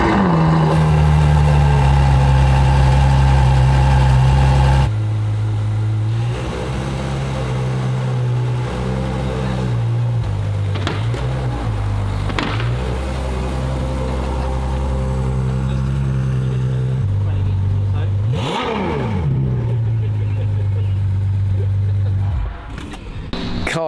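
A Ferrari 812 Superfast V12 fires up with a loud, sharp bark, then settles into a steady, deep idle that drones on with slight shifts in pitch, recorded close up and outdoors in sunshine.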